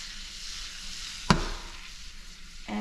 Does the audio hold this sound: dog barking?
no